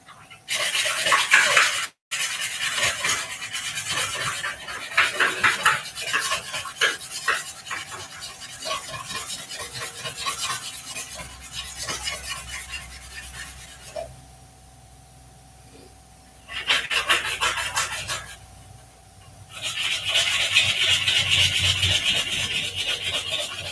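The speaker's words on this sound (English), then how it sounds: "Now with wood we sand laterally between each grit so that the scratches go with the grain." A wooden pen blank spins on a lathe while being sanded with 100-grit paper, making close, raspy rubbing strokes in bursts separated by brief quieter pauses over a low motor hum.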